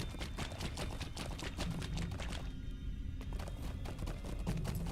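Horse hooves clip-clop in a steady, rhythmic gallop in the online game Lord of the Rings Online (LOTRO), heard close up over a faint ambient game background.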